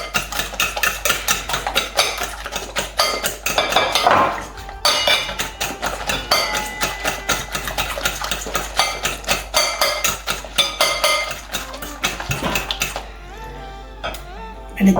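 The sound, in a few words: beating five eggs in a bowl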